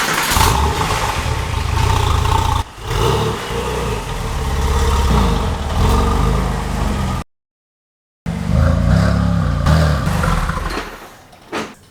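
High-mileage Porsche 911 Turbo engine droning and revving loudly on a drive, close and continuous with a brief cut in the middle, then rising again with rattles.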